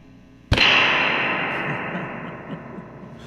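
A real spring reverb tank on a guitar pedalboard is jolted, giving one sharp crash followed by a long metallic splashing decay that slowly fades over a few seconds.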